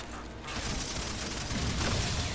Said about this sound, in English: Pink explosion!